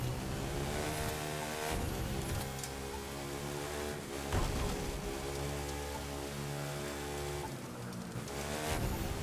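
Rain pours down during a motorbike race in the video game The Crew 2, a steady wash of droplets heard under a constantly revving engine, with no talking over it.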